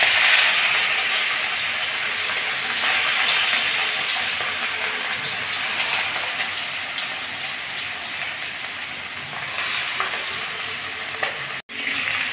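Pieces of tilapia sizzle and fry in hot oil in a wok, giving a steady, loud crackling hiss throughout that eases slightly toward the end, with one brief break near the close and no talking.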